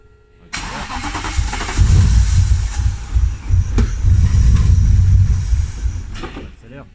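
An engine cranks and catches, then settles into a loud, close, uneven idle with rumbling low-end pulses that tails off near the end.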